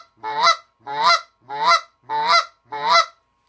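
A goose call blown to imitate a goose cluck: five short, evenly spaced honking bursts, loud and close, with no talk.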